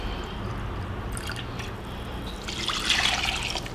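A full cup of apple cider vinegar poured into a turkey brine, a continuous close trickle and splash of liquid that swells toward the end, with no talk.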